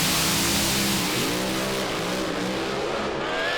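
Two drag race cars launching down a racetrack, loud roaring engines with rising pitch sweeps and a hint of tire squeal, sustained and close, fading slightly at the end.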